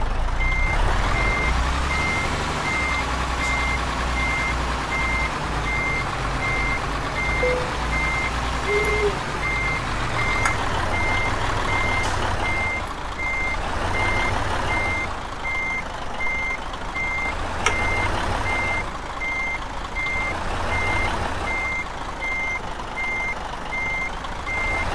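Repeating reversing beeps from a truck in Euro Truck Simulator 2, a steady evenly spaced tone sounding throughout over a continuous loud diesel engine drone as the rig backs up.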